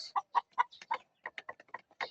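A flock of backyard chickens clucks in a rapid series of short, close pulses, steady and uneven in rhythm, with no talk over it.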